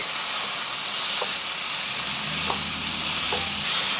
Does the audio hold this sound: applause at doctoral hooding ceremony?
no